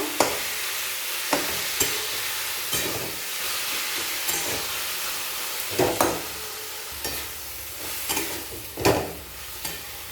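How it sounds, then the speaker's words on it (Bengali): Marinated chicken stirred and frying in a pan, a continuous loud sizzle broken by regular scraping strokes of a spoon, some louder bursts near the end. "এরপর নাড়াচাড়া করে চিকেনটাকে রান্না করে নেব"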